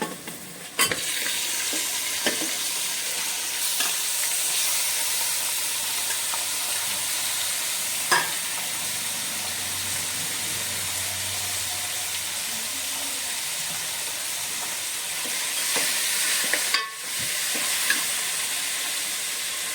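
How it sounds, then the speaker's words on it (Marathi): Mutton stir-fries with browned onions in a pan for a village-style mutton rassa: a continuous loud sizzle and hiss with occasional scraping knocks of stirring, no voices. "कांदा आता पूर्ण भाजून झालेला आहे आपण आता त्याच्यामध्ये टाकूया मटण"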